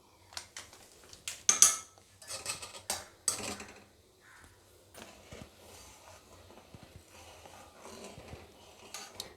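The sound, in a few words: stirring milk with powdered milk in a pan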